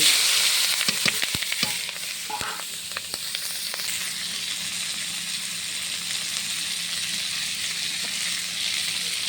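Frying and stirring in mustard oil, a loud, bright sizzle with a cluster of sharp scraping strokes early on, then settling into a steady close hiss.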